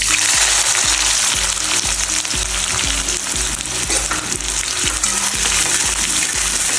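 Onion frying in hot oil with crackling mustard seeds and cumin, a loud, dense, continuous sizzle that stays steady throughout, close by and with no talking.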